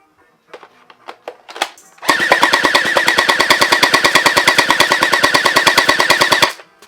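An XShot HPG700 gel blaster fires first in a few scattered pops, then in a long rapid burst of about four seconds, loud and close, with evenly spaced shots that stop abruptly.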